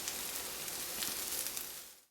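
Kothimbir vadi pieces shallow-fry on a hot griddle with a little oil around each piece, giving a steady, close hiss and crackle that fades out at the end.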